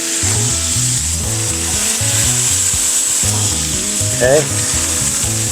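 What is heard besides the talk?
beef and sausage smash burger patties sizzling on a griddle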